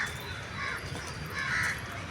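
A crow caws several times in close, harsh bursts near a spot where birds drink water, with faint background noise between calls.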